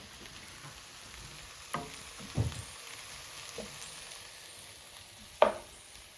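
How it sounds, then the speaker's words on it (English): Onions slowly caramelizing in a pan give a soft, steady sizzle that stays quiet throughout, broken by a few sharper clinks and knocks of a utensil against the pan. "our onions continue to caramelize"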